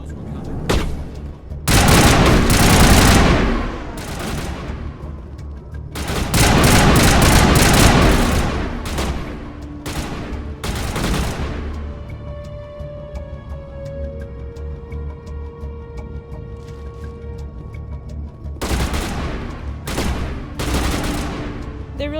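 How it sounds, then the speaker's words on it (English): Bursts of rapid gunfire in Mass Effect 1, aimed at a pipe, come in loud volleys separated by quieter stretches of ringing, humming game ambience, with a final burst near the end. "They're really shooting at a pipe."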